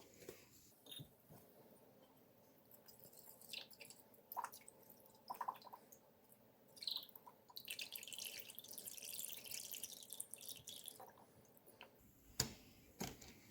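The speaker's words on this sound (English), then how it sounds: "So now I'm going to pour in my 1/2 cup of hydrogen peroxide." Hydrogen peroxide poured into a volcanic foam experiment gives a soft splash and trickle of liquid, loudest in the middle stretch, with a few faint drips and taps around it and no talking.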